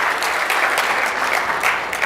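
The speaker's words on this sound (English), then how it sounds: "give it a round of applause." Brief burst of audience applause at a conference talk, many hands clapping steadily and fairly loud for about two seconds.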